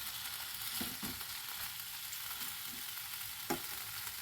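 Food sautéing in a pan gives a steady, faint sizzle and crackle with a few soft clinks and stirring knocks along the way, and no one is speaking.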